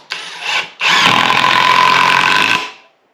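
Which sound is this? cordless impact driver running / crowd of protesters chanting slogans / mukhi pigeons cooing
cordless impact driver running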